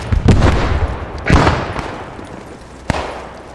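Machine gun fire in the World War II shooter Post Scriptum, a few heavy booming shots with long reverberant tails, the loudest early on and one sharp crack near the end.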